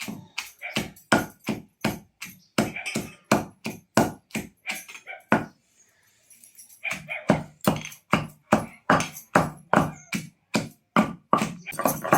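Rhythmic pounding and grinding of village-style chutney in a stone mortar, a steady run of sharp close strokes with a brief pause midway.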